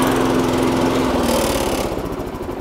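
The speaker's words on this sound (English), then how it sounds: "that's how you start the petrol mower" A petrol lawn mower engine runs loud and close after starting, with a steady, even drone and no talking.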